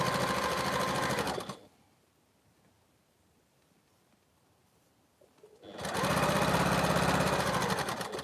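A sewing machine runs in two loud, steady bursts while stitching a quilt seam for an interlocking triangles patchwork, the first lasting about a second and a half and the second starting after a long quiet pause.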